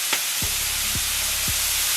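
Seafood and meat stir-fry in a hot pan for jjamppong pasta, a dense, steady sizzling hiss close up, punctuated by three soft knocks of the pan or utensil.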